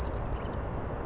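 A male robin sings a brief burst of high, thin warbling notes, three or four quick phrases over faint background noise, lasting about half a second.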